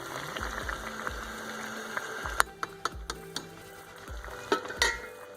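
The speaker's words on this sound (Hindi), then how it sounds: "अब हम इसको अच्छे से मिक्स करेंगे।" Soaked rice is stirred into chicken yakhni in a cooking pot, a steady close scraping of a spoon against metal over a soft sizzle, with occasional sharper clinks.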